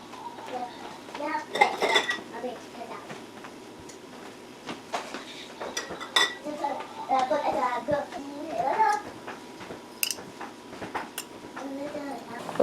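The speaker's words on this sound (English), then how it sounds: "So let me get those out of the dishwasher. I'll line them up" Glass quart jars clink and clatter as they are lifted from a dishwasher and set down in a row, with sharp scattered glassy knocks over kitchen background noise and voices talking.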